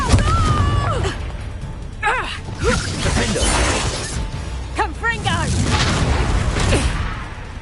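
Confringo blasting spell explosions in Hogwarts Legacy, several shattering bursts and pops amid combat effects, under loud voices from the fight.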